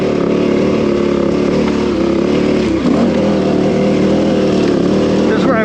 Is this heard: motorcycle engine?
yes